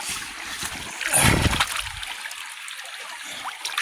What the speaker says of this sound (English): let's wash it off